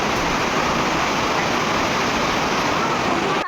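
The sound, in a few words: heavy rain and wind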